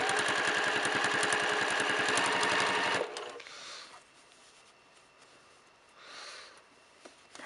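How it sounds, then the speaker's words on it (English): A sewing machine runs steadily at close range for about three seconds, stitching medium rickrack along the edge of a baby quilt, then stops; quieter room noise follows. "I just bring it, my pedal, and I just stitch as close to the edge as I can"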